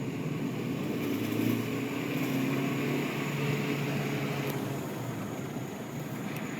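A 2000 Saab 9-3 turbo running with its MAP sensor missing, pulling hard in second gear, with a loud, steady engine drone that never lets up and no clear separate knock.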